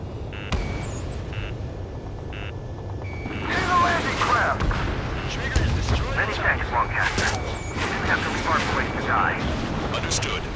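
Heavy artillery fire and combat booms in the Ace Combat 7 flight game, a steady barrage of bursts and rumbling blasts building louder midway, with radio voices talking over the din.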